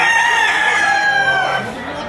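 A bull stag rooster crows once, loud and close, with a drawn-out cock-a-doodle-doo at a poultry auction in Lipa.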